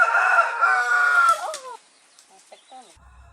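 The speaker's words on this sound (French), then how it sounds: "Et il y a aussi la petite poule avec ses poussins." A small hen and her chicks on a rural farmstead in remote Cambodian countryside, clucking and chirping loudly up close for about a second and a half, then a few faint scattered peeps.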